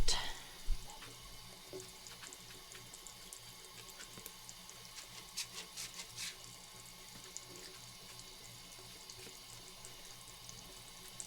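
Tap water running at a sink to rinse the hair of a vintage 1990s troll doll, a soft steady stream with faint splashes and handling noises, fairly quiet.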